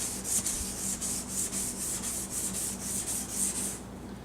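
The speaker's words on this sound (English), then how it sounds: "it's basically like a polishing, almost like a light sandpaper." A Turtle Wax headlight restoration kit sands plastic headlight lenses, making a steady, close, rhythmic scrubbing rasp with regular strokes and no speech.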